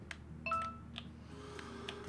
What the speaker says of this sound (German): springt mein Handy natürlich wieder an